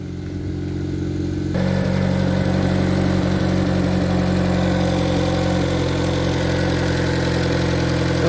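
A 2009–2011 Chevrolet Aveo engine idles in neutral with a steady low hum. It starts quieter and grows louder and fuller after a moment, then holds an even, continuous drone with no talking.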